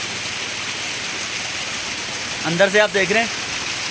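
Glacier meltwater runs through an ice cave near Naran Kaghan in a steady, hissing rush of flowing water, with someone briefly talking over it toward the end.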